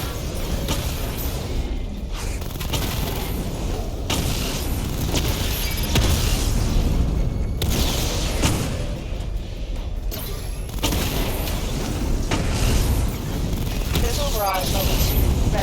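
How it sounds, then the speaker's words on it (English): The Batmobile fires a missile barrage in Batman: Arkham Knight: repeated heavy booms and mechanical clatter in a dense, loud volley, with game voices talking over it. "Charge up missile barrage to level 2 and destroy 4 active targets to complete diagnostic test."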